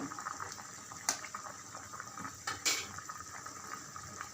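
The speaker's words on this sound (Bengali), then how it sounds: "ঝোলটা ফুটে উঠেছে।" Prawn curry gravy bubbles at a gentle simmer in a pot, a soft continuous burbling with two brief louder splashes or clinks, quiet and close, with no talking.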